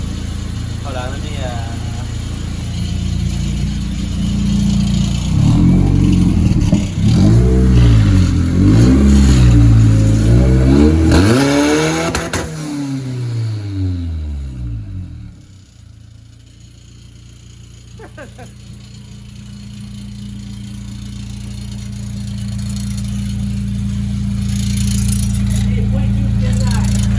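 A Honda engine fitted in an MR2-chassis VW Bug revs up and down in several swells, dropping back to a steady idle, with speech over parts of it.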